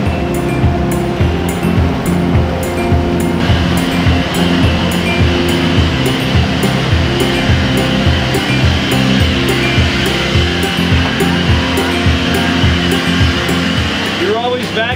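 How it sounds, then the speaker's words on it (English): A vacuum cleaner runs aboard a sailboat with a steady, loud, droning roar and whine that fills the whole stretch, with faint background noise underneath. "You're always vacuuming every time I come in here."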